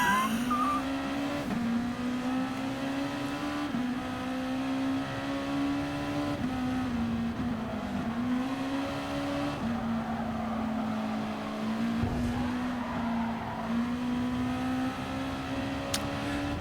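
Race cars in a GT Sport race replay scream past with a steady, high engine drone that rises and drops through repeated gear shifts, loud and continuous, with faint tyre noise underneath.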